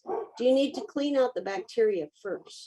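Pet dogs bark in the background of a video call while someone speaks almost continuously over them, the barks brief and partly masked by his voice.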